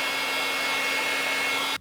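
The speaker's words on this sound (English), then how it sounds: "I am using a hairdryer on low setting to melt the existing ones" A hair dryer on its low setting blows a steady, close, even whoosh with a faint motor whine, running alone for under two seconds before it cuts off abruptly.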